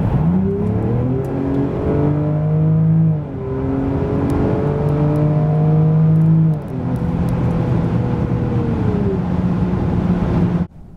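A 2022 Jaguar F-Pace P400 with a 394 hp 3.0-litre engine accelerates hard, climbing steadily through its gears, pitch rising and dropping at each shift, loud and close throughout with no talking.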